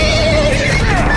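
A horse in the Game of Thrones Telltale video game whinnies in a single drawn-out, wavering neigh, loud and close, with no talk over it.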